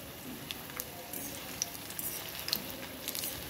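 Green chili fritters (mirchi bhaji) frying in hot oil: a steady soft sizzle with scattered pops and crackles, close and fairly quiet, with no talk.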